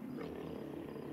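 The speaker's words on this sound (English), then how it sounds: "Is that a cougar?" A cougar growls at night during a late elk hunt, a low continuous rumbling snarl that is fairly faint and distant, holding steady for about a second.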